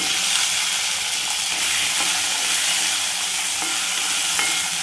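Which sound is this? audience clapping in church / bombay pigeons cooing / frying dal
frying dal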